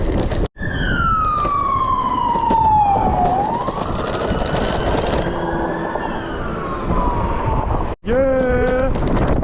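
Chicago police car siren wailing nearby, a long rising and falling tone followed by quick yelping pulses, heard over heavy wind buffeting on the microphone during a ride along a trail.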